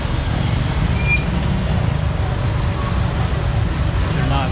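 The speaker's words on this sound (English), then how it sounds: "Sounds like there's a lot more vehicles coming." Steady low rumble of road traffic, vehicles droning along a highway at moderate distance, continuous with no pauses, during protests near San Gil, Colombia.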